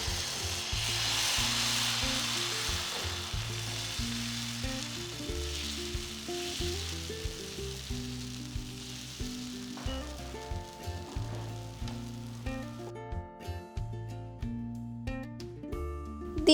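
Chickpea dosa batter, ladled onto a hot pan, sizzles in a soft, steady hiss that is strongest at first and fades, with background music playing over it.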